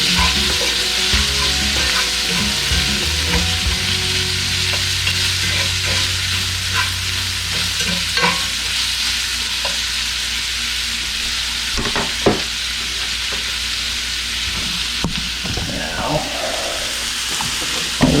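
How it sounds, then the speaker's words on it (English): Venison and onion sizzle steadily in a hot camp-cooking pan, a continuous frying hiss with scattered scrapes and clicks as the mix is stirred, close and fairly loud throughout. "into that, we'll put venison, the onion, give it a little stir"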